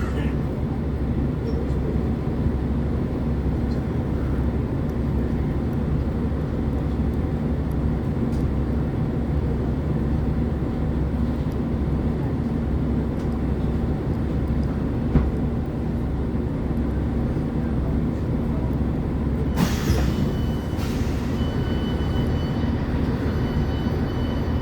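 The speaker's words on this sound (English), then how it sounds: "The ride quality on the Class 165s aren't great at all, especially over points and bends" Onboard a Chiltern Railways Class 165 diesel unit, a steady loud rumble of engine and rolling wheels fills the cabin throughout, with a brief sharper clatter near the end as the train runs over points.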